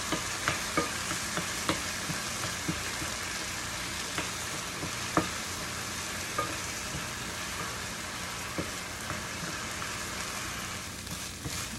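Crushed onions and garlic frying in a pan for pipian tamales, a continuous crackling sizzle with scattered spoon clicks at irregular intervals, close and steady, no talk.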